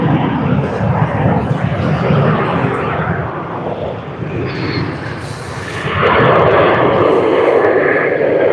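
A Virgin Australia Boeing 737-800 jet arriving at Sydney Airport on a service from Ballina gives a broad, steady engine roar that grows fuller and louder toward the end, with no voices heard.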